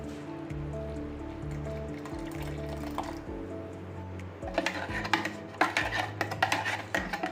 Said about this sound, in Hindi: एबे मु एथिरे आवश्यकता अनुसार किछि ठंडा पानी ऐड करि नेबी।